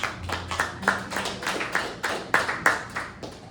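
A small audience gives a light, scattered round of clapping for performers at a poetry event, individual hand claps distinct and uneven, fairly close and moderate in volume, with a faint low hum underneath.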